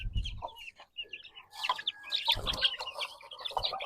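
Backyard chickens cluck and squawk at feeding time in a farm pen, with several birds calling in overlapping bursts close by and a busy, continuous flock chatter with no talk.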